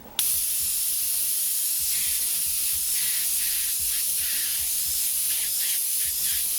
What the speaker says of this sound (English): from a distance, we're just going to spray this in